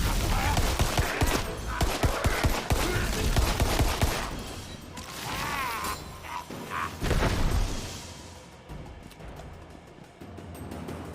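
Enemy gunfire in the fantasy shooter Tiny Tina's Wonderlands: dense, continuous fusillades of shots crackle through the whole stretch, with loud bursts near the start and bangs later, mixed with game music and effects.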